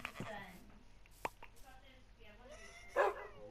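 A dog in Minecraft gives short, sharp barks and small yips, scattered and moderately close, mixed with whimpery tones and light background sounds.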